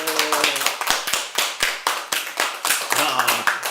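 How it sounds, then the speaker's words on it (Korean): Applause from an audience at a presidential candidacy announcement, a scattered group clapping by hand in uneven bursts, fairly close and moderately loud, with a few voices mixed in underneath. "박수"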